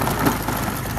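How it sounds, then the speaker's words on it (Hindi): A Honda Activa scooter engine runs close by, a steady low mechanical drone with a slight rattle, heard alone over about a second. "एक्टिवा जो है कितनी आवाज़ कर रही है वो मैं आपको बताता हूँ"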